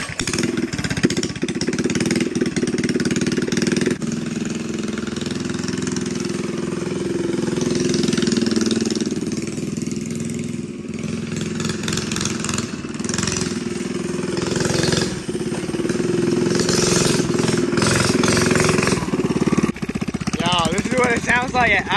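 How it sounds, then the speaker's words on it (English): A modded Coleman CT100U minibike engine runs loudly at a rough, rattling idle close by, a continuous harsh drone with a few revving swells, while a person talks over it. "Sounds like an idle. Pretty loud, bro. Like, really loud."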